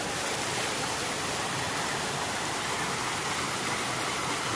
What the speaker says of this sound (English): This is the other creek